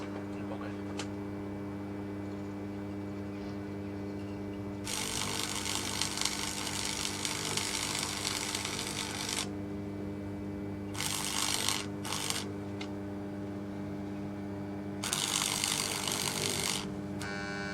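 Welding on a metal part in a workshop, three long bursts of harsh crackling buzz separated by quiet pauses over a steady background hum.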